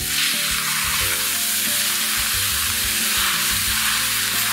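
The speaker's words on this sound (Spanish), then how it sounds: "la mezclo con la cebolla y las zanahorias" Ground meat frying in a pan with onion and carrots while being stirred, a loud continuous close sizzle with scraping stir noises running throughout.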